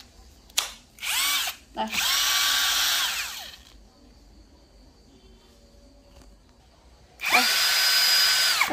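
A cheap cordless battery drill with a 10 mm chuck runs in several loud bursts: two short whirs, a longer sustained spin, a quiet pause, then another strong run at the end, with a brief spoken word near the start.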